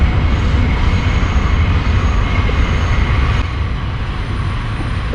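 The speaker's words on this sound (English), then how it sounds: "I'll wait for this train to pass." A train rolls past close by, a loud, steady rumble and rattle of rail cars holding for five seconds and easing slightly toward the end, with no talking.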